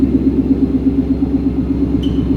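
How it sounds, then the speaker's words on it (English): Loud idling car engine fitted with catless long-tube headers, a raw, throbbing exhaust burble pulsing steadily, close and enclosed in a garage, with a brief high squeak near the end. "the car's just too loud in the garage"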